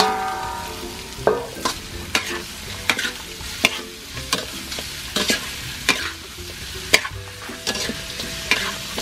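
Lemongrass and chili stir-fry in hot oil for a frog dish, with a continuous close sizzle and a brisk, repeated clatter of a spatula scraping and tapping the pan.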